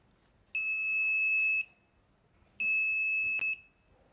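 Two loud electronic buzzer tones from a laser-and-LDR obstacle sensor project, each a steady high beep about a second long, separated by a short pause, with the second cut off slightly early.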